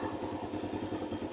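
A motorcycle engine idles close by with a steady, even chugging pulse and a light mechanical clatter, running throughout without any audible shutoff.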